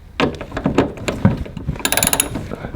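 Ratchet wrench tightening a 10mm nut on a Mazda RX8 trunk, with close, rapid clicking bursts in short strokes, a metallic clatter near the end and no talk.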